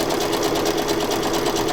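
A sewing machine stitching through a no-sew tab binding pocket journal, a close, loud, continuous rapid chatter of needle strokes with no pauses.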